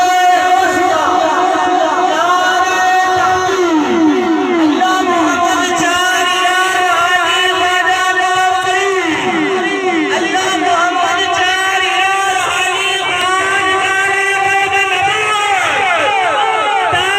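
A large crowd at a religious gathering chants slogans in loud unison, the rhythmic responses rising and falling continuously over dense crowd noise.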